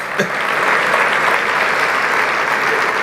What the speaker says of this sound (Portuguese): vamos dar uma salva de palmas, que esse povo é vencedor